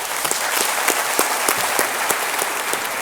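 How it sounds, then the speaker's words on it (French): A crowd applauds at a college graduation ceremony, a loud, continuous roar of clapping from a large audience with scattered distinct hand claps close by, no speech over it. "je vous invite à leur accorder une bonne main d'applaudissements"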